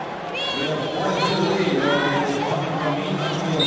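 A large crowd of about 10,000 fills the Tacoma Dome during a state championship wrestling match, producing a steady, loud roar of chatter and cheering throughout, with shouted voices rising over the dense babble.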